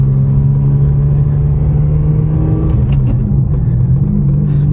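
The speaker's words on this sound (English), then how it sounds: "ooh, big old V12" A Ferrari 550 Maranello's V12 runs with a loud, steady, deep rumble close by, holding an even drone with a slight rise in pitch partway through.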